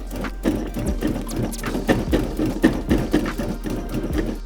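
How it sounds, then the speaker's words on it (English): Food processor pulsing a dry flour mixture with frozen cubed butter, a loud close motor whir broken by rhythmic rattling chops throughout. "Add in our frozen cubed butter. And give these a quick pulse."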